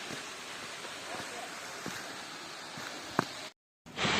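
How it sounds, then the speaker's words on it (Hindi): A steady rush of a small waterfall near the Mada Caves in Singrauli, India fills the air, broad and constant, with a few faint knocks before a brief cutout. "इतनी गर्मी में ये छोटा सा खूबसूरत सा झरना"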